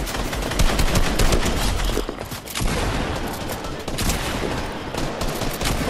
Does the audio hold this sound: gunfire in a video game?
yes